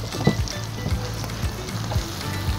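A piece of salmon sizzles on a portable Cook-N-Dine teppanyaki grill, a steady close hiss of frying with soft rhythmic scraping or stirring strokes recurring about twice a second, no talking.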